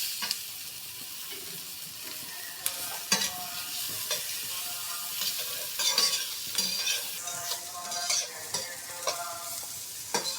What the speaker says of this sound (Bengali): আমার সবজিগুলো খুবই অল্প সময়ের জন্য আমি সতে করে নিয়েছি